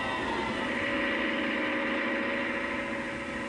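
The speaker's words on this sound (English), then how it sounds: "Here, a tractor is coupled to a dynamometer to check that power output is up to specification throughout the engine speed range." A Leyland 344/384 tractor engine runs on a dynamometer for a power output test, giving a loud, steady, even drone with a constant mechanical hum throughout and no talking.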